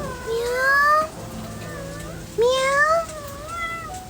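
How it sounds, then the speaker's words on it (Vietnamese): A cat meows twice in a garden setting, two distinct rising-and-falling calls separated by a pause, close and clear, with a softer third mew trailing at the end. "Méo mèo."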